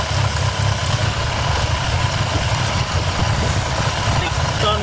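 A 1962 Austin-Healey Sprite engine idles steadily during carburetor throttle adjustment, a close, even mid-pitched rumble running continuously without a break.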